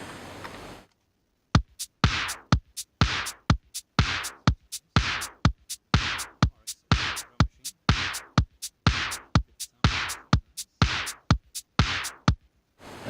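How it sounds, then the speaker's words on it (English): A simple programmed drum track for an electronic song plays alone: a steady, loud beat of punchy kick and snare hits at about two per second, starting after a brief silent gap. "Here are the drums."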